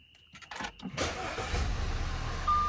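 An Audi car started with a push-button start while the brake is held: a few quiet clicks, then the engine catches at about one second and settles into a steady, moderately loud idle.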